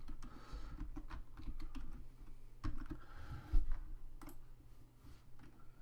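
Steady keyboard typing at a computer, with soft clustered key clicks running through most of the stretch and a few louder taps near the middle, close by and moderately quiet with no voices.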